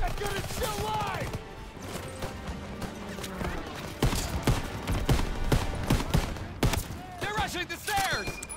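Gunfire from a WWII battle in Call of Duty: WWII, with bursts of shots and sharp cracks throughout, growing denser and louder midway, while voices shout over the fighting.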